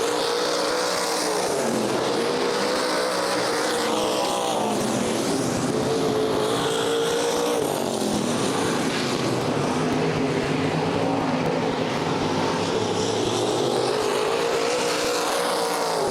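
Race cars roar around the clay oval at Fremont Speedway during the Race of Legends, a continuous loud engine drone that rises and falls as the cars run side by side out of the turns, with no pauses.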